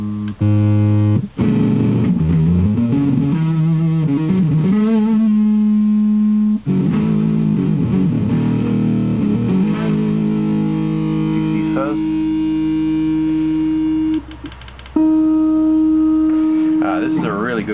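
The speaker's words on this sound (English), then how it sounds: "You got your tube distortion and some fuzz transistor distortion. They're morphing in and out of each other." A distorted electric guitar through a Digitech RP20, tube and fuzz transistor distortion morphing into each other, plays sustained notes and slides, its gritty, buzzing tone shifting in character, with brief gaps between phrases.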